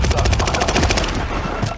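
Rapid automatic gunfire crackles in a video game, loud, continuous bursts of shots filling the whole moment with no one speaking.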